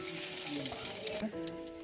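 Whole cumin seeds sizzle in hot oil in a pan over a wood-fired clay stove in a village kitchen, a steady close crackling hiss with no voices.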